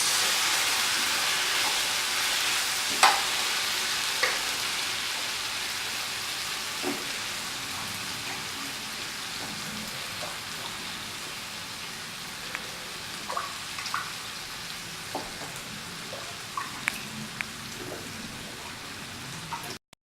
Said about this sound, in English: Mix all the ingredients together thoroughly so that masala is incorporated into all the ingredients